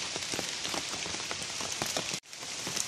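Steady rain pouring down during the rainy season, a dense, even hiss of drops striking surfaces close by, with a brief dropout near the end before the downpour resumes.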